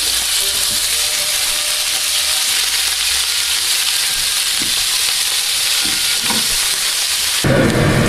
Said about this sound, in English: now we're going to put our meat inside the pan. And we're going to cook it for 3 to 5 minutes or until it's brown